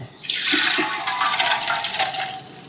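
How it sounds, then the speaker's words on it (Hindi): Drinking water gushes into a Bombay-style degh holding soaked lentils for haleem, a continuous splashing pour of about two seconds that fades out at the end, with no talking. "और इसमें अब जाएगा पानी।"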